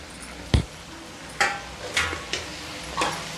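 Tomatoes tumble into golden-brown onions and green chillies frying in a pan for Bombay pav bhaji, giving a thud and a few stirring scrapes over a faint steady sizzle, with no voice.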